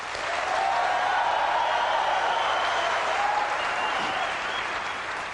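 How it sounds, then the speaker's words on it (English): A keynote audience at a Power Macintosh G3 unveiling bursts into sustained applause, a dense wash of many hands clapping for several seconds before tapering off, with faint voices mixed in. "Second one, clap."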